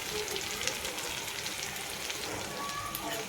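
Chickpea flour (besan) hits green chillies frying in oil, giving a continuous close sizzle with a crackly, rain-like texture and a few small spatters, heard alone.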